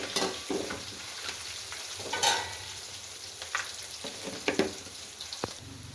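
Roasted gram fries in ghee in a pan, a steady close sizzle broken by the scrape and clatter of stirring, with no talking.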